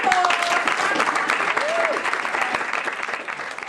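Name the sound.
audience applause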